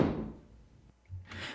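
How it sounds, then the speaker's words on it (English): A muffled door slam from the next room hits once with a dull low thud that fades into the room's quiet, and a softer rumble follows a moment later. "a very, very specific door slam that sounded like it was very far away"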